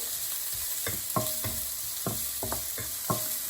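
Ingredients crackle and sizzle in hot oil in a pan for egg fried rice, with a run of sharp scraping knocks as a utensil stirs them at an uneven pace.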